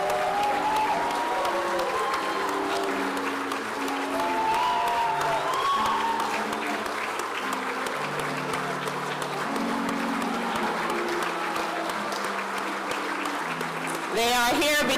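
An audience at a medical school white coat ceremony applauds steadily, a dense wash of clapping that carries on for the whole stretch while a voice talks over it, with a brief louder burst near the end.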